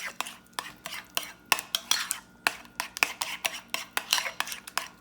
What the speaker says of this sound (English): Then just stir that together.